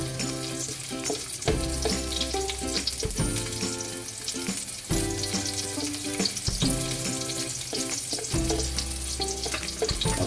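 Onions frying in a pan for a Filipino yellowfin fish steak, a continuous loud crackling sizzle with periodic stirring knocks throughout.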